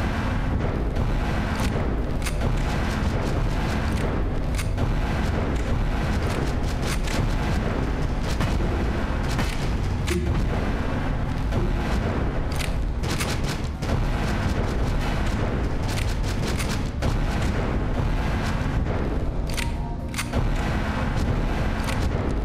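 Rocket launcher explosions in the Astroswarm video game, a dense unbroken barrage of booming blasts and crackling impacts, loud and continuous throughout with no pauses.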